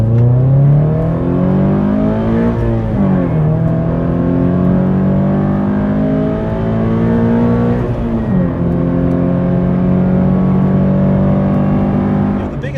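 A supercharged Scion FR-S (GT86) engine pulls hard in first gear from about 2,500 RPM: a loud, continuous close-up engine drone whose pitch climbs steadily, with two brief dips in the tone.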